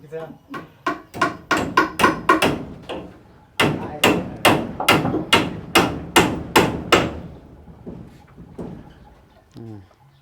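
Rapid hammer blows pounding on a house under construction, a long run of sharp, loud, evenly spaced strikes, a brief pause, then another steady series before it trails off.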